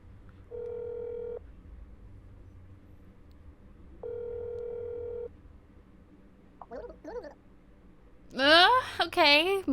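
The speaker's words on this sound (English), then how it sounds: "Maybe I should ring the apartment phone number" Video game telephone with an electronic dial tone, two separate buzzing tone bursts about a second long each, followed by short clipped voice sounds and then a louder spoken line at the end.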